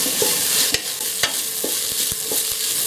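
Onion with green chili, ginger and curry leaves sizzles in a pan for Kerala chicken stew, with a steady hiss broken by a string of sharp spoon scrapes and taps about every half second. The sounds are close, and no one talks.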